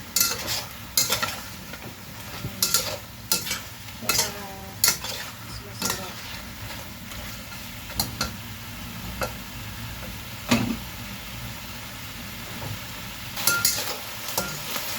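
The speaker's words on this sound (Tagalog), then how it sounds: "Kailangan haluin kung hindi masusunog ang ating chicken." Chicken sautéing in bagoong and ginger in a pan, with repeated scraping stirs and clinks of a utensil against the pan over a steady low sizzle, close and moderately loud.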